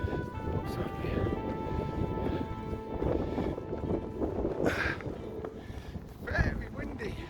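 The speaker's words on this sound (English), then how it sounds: "Very windy." Wind blowing across an exposed hilltop fort sounds as a constant rushing buffet against the microphone, with gusty swells throughout.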